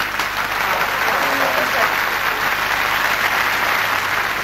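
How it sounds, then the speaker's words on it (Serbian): Loud, sustained audience applause for a women's orchestra on a television program, a dense continuous clatter of many hands filling the room, with a faint voice briefly under it. "Može aplauz jedan."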